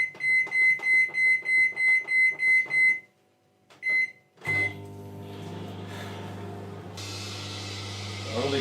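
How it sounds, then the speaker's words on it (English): A microwave oven with an apple inside beeps repeatedly in an even series, pauses, gives one more beep, and then settles into a steady, loud running hum with fan noise. "Simply pop it in a cappuccino cup, and it goes in the microwave."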